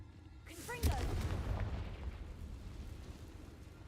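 A Confringo blasting curse bursts in Hogwarts Legacy, a sharp crack followed by a deep rumbling boom that rolls on and decays slowly beneath a busy game soundscape.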